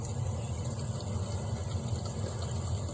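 Water rushes into a newly replaced toilet's tank with a constant, close hiss and gurgling flow that stays even throughout, with no voices.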